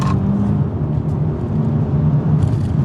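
A Kia Stinger GTS engine hums steadily from inside the car as the driver moves up and down through the gears, a continuous low drone with small swells in revving.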